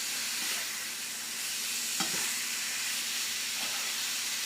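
Beef and curry paste stir-fried in a pan for a Thai eggplant beef curry, a steady close sizzling hiss with a few stirring scrapes and spatula clicks, no talking.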